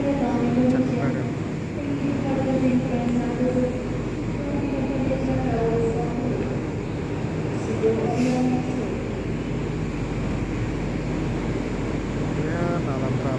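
An economy-class KA Jayabaya train pulls into Jatibarang station at night, with a steady low rumble and wheel noise carrying through the clip while a voice talks over it.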